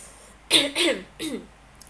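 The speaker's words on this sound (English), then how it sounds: "he coughed loudly, announcing his presence" A reader performs a loud, deliberate cough as a mock announcement of presence, heard as three rough, throaty bursts close to the microphone, the first two run together and the third after a short pause.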